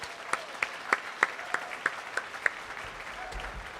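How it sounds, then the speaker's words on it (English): An audience applauds musicians on stage at a Leonard Bernstein tribute concert, soft dense clapping under a series of sharper individual claps at a steady rhythm, fading toward the end. "About a round of applause for these amazing musicians here on stage."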